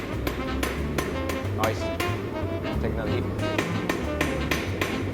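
A blacksmith hammers hot metal to draw out an arrowhead socket, giving a string of sharp ringing taps on the anvil, close and steady, while someone speaks over them.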